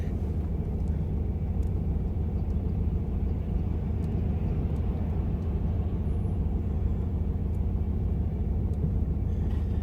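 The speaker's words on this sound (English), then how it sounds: "waiting for the traffic to move" Steady low road-traffic rumble heard from inside a car stuck in a jam, a continuous dense drone with no pauses and no speech.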